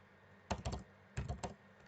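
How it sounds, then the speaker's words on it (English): Two short bursts of typing on a computer keyboard, quick clustered key taps separated by a brief pause, close and quiet. "Now go to the search bar again and type internet option again."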